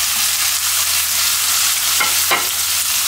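Vegetables added to ginger and garlic sizzle and fry steadily in a hot pan, a continuous close crackle with two brief stirring scrapes near the end.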